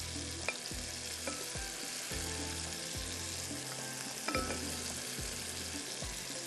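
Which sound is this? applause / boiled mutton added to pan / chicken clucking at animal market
boiled mutton added to pan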